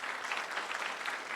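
Steady audience applause at a Brazilian conference for pension-fund councillors, a dense, even wash of clapping hands with no pauses, filling the room from start to finish without speech.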